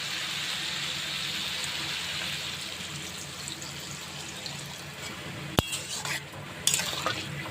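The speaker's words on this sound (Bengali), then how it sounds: "এবার জল দিয়ে দেবো" Water pours into a pan of fish curry with fried tomato and Kashmiri chilli powder, giving a steady, fairly quiet wash of liquid that runs several seconds, followed by a few sharper clinks and knocks near the end.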